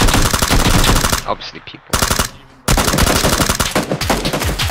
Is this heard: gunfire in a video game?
yes